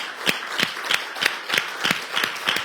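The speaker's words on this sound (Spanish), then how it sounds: "Denle un aplauso al Señor." A church congregation claps in a steady rhythm, about three sharp claps per second, moderately close and with no talking over it.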